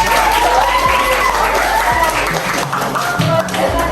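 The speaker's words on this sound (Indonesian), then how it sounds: "Oke, tepuk tangan." Classroom applause as a group of students claps hands, a dense, steady patter continuing throughout with a teacher's voice audible over it.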